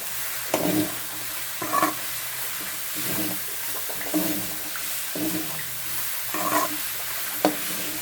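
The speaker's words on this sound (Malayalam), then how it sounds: "ഇനി നമുക്ക് നമ്മൾ അരിഞ്ഞു വെച്ചേക്കുന്ന ചേമ്പും താളിടാം. നന്നായിട്ട് ഇളക്കി വെക്കുക." Chopped colocasia and its leaves are stirred in a frying pan, giving a series of rhythmic scraping strokes roughly every second over a soft, steady sizzle, close up with no talk.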